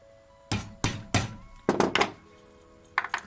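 Hammering on a strong work surface while building a LARP/RP box: sharp, close blows in two quick clusters of three, then a short pair, with quiet pauses between.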